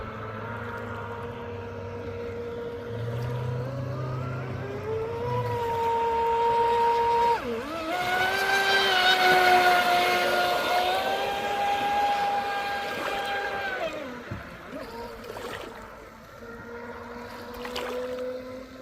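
A Proboat Impulse 32 RC boat, run on 6S power, races across rippled water with a steady high motor whine that rises and falls in pitch as it passes, loud and fairly close, with wind noise and no talk.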